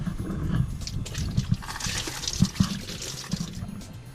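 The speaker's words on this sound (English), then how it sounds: "Alright, just pour out this soapy water." Soapy laundry water poured out of a container on a sailboat, a soft continuous splashing and gurgling with a few small splats, close and fairly quiet.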